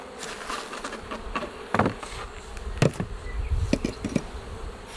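Honeybees of a swarming spring colony buzz at the hive, a steady close insect drone with several louder buzzes as individual bees pass near, alone without voices.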